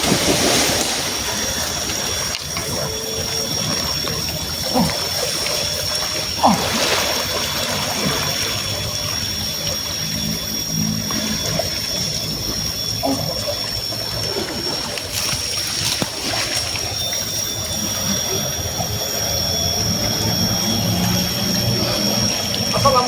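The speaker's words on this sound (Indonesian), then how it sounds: "Di sini ada pertemuan sungai." River water flowing steadily at a confluence of two streams, a broad continuous rush with occasional splashes, fairly loud and constant throughout, with faint voices now and then.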